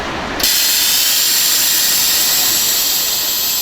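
A bendy bus in Brighton kneels to lower its body, releasing a sudden loud burst of air that becomes a steady, close, high hiss and continues unbroken to the end.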